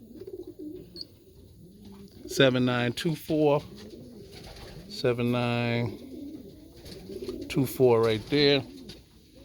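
Racing pigeons at a loft trap coo in several loud, close bursts with a steady hum underneath, while someone talks between and over the calls.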